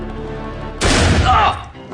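A single loud gunshot-style sound effect bursts out midway, a sharp blast with a noisy decaying tail lasting under a second, following a low steady background hum.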